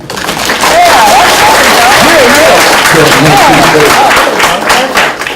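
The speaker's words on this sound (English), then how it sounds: "Y'all could clap better than that" An audience at an evening speaker-series event claps steadily for several seconds, with voices and cheers mixed in.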